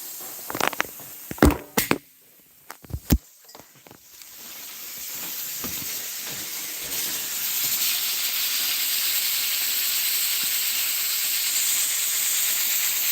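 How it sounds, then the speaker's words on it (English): A pressure canner processing carrots on a stove hisses steadily with escaping steam and a rocking weight, a loud continuous hiss that builds after a few sharp clicks and clatters at the start. "See, it's huffing and little bits of steam are coming out from underneath."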